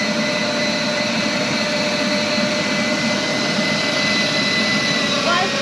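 A meat grinder steadily grinds meat, potato and carrot for potato cutlets, a continuous loud whirring motor drone with a gritty churning texture that holds without pause throughout.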